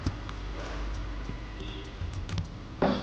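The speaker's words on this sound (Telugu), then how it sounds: "ఇలా అయితే మీరు టైప్ చేయాలి." Rapid clicking of keys on a computer keyboard, typing a command, close and steady with irregular bursts and no talking.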